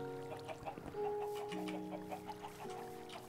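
Chickens cluck repeatedly in the Minecraft video game, short pecking clucks in an irregular rhythm over a steady tonal game music bed.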